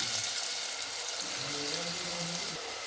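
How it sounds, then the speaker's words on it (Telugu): Onion pieces dropped into hot oil for a fish curry, a steady soft hiss and sizzle filling the pan at low level throughout, with no voices. "ఆయిల్ వేడెక్కింది ఇందులో ఉల్లిపాయ ముక్కలు వేసుకుందాం"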